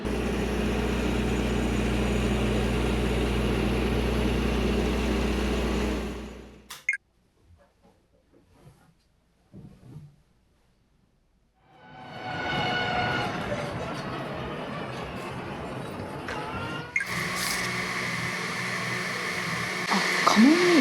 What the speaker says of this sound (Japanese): 電車通ったらこの騒音だもん。